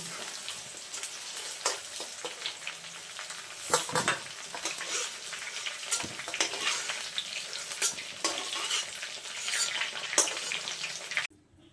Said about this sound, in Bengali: পটলটা খুব বেশি ভাজবো না হালকা করে ভেজে নেব পটলটাও হালকা করে ভেজে নিলাম